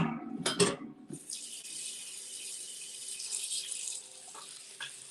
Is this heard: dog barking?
no